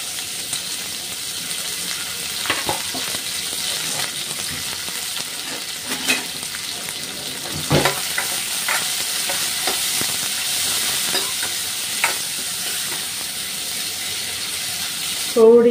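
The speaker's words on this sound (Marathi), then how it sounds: "तर आता तेल तापलेलं आहे, याच्यामध्ये जिरं घालून घेते आणि हा चिरलेला कांदा." Cumin seeds and chopped onion frying in hot oil, a dense steady sizzle and crackle running throughout with scattered utensil clicks and stirring scrapes, close and fairly loud.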